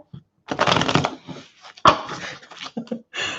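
Tarot cards being shuffled by hand in a few separate bursts, with soft riffling and a sharp snap of cards, close and fairly quiet with short gaps between.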